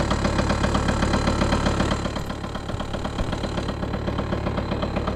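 A 1983 Yamaha CV80 two-stroke scooter engine idles steadily and close by, with a fast, even putter that keeps a constant level throughout.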